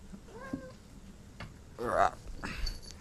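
A cat meows a few times, short and fairly quiet, with a louder meow near the end, in a quiet room.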